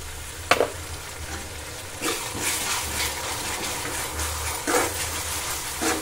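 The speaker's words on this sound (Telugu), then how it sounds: "ఉల్లిపాయలు ఈ మాత్రం వేగిన తర్వాత ఇందులో 1/2 టీ స్పూన్ వరకు పసుపు వేసుకోవాలి. అలాగే అల్లం వెల్లుల్లి పేస్ట్ వేసుకోవాలి." Onions fry with turmeric and ginger-garlic paste for chicken fry, a close steady sizzle with a sharp knock near the start and bursts of stirring noise, no speech.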